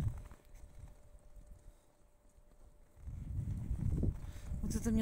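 Horses walk on a snowy night, their muffled hoof clops a soft, irregular thudding that swells louder toward the end, with a low steady hum running underneath.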